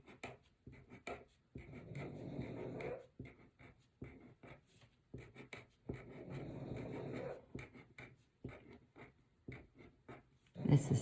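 Pen scratching and scribbling on paper while drawing math figures, in bursts between stretches of close talk.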